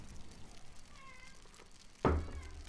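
A cat meows once at home, a short bright call rising out of quiet room noise near the end, with faint background sounds before it.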